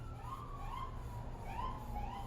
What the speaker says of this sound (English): there go the sirens again.